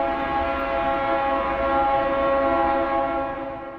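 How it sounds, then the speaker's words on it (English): Deep, steady drone of a 1978 EMD GP38-2 diesel locomotive with a harmonic hum, loud and close, idling without interruption before tapering slightly at the end. "This locomotive is a GP38-2 built by EMD in 1978 for Conrail"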